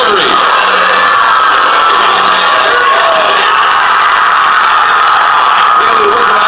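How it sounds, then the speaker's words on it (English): A huge arena crowd on its feet roars steadily at Canada's women's hockey Olympic gold win in Sochi, a loud sustained wash of cheering and whooping with no break. "A huge crowd on its feet."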